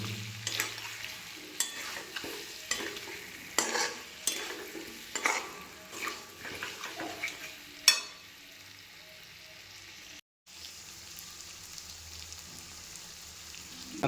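Cut potatoes sautéed and stirred in a pan, with repeated scraping stir strokes over a steady low sizzle, then a brief quiet gap before the frying continues.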